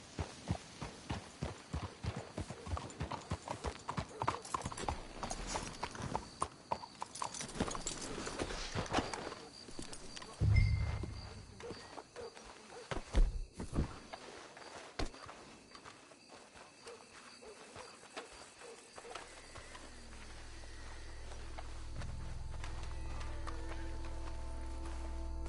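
Horses clip-clopping in the Western video game Red Dead Redemption, a quick run of hoofbeats for the first ten seconds that gives way to scattered thuds, a hum and a swelling low drone.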